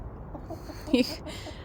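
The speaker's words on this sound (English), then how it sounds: "I love seeing happy chickens." A hen gives a single short cluck close by, with a few fainter clucks from other hens around it against quiet background noise.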